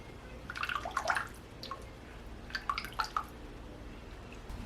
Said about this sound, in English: I'm going to pour most of this orange in now